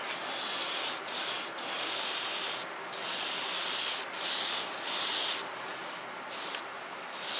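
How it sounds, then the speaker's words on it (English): An airbrush loaded with white paint sprays in a series of short, close, breathy hissing bursts. Brief pauses separate the bursts. "I'm just going to blow this in with white. I've got white loaded in the airbrush."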